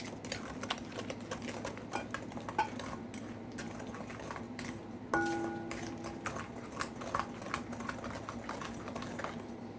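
Eggless chocolate chip cookie dough is stirred in a bowl, giving a steady run of soft, quick taps and clicks of a utensil against the bowl, faint and continuous with no voices.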